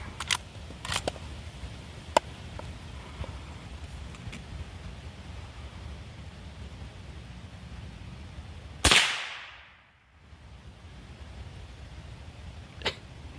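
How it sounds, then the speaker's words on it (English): Single sharp report from a lever-action .22LR rifle at a shooting range, a loud crack that decays quickly into quiet, with faint clicks and light background noise around it. "Remember, it's a lever gun"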